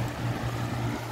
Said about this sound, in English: This one always has that constant whirring sound